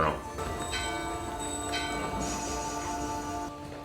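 A bell in a video game rings with a sustained, shimmering metallic tone that lingers and fades, struck again partway through, over a low background hum.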